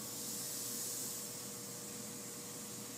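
An automated seven-stage indexing parts washer for citric passivation sprays in its wash stage, giving a steady, even hiss with no breaks.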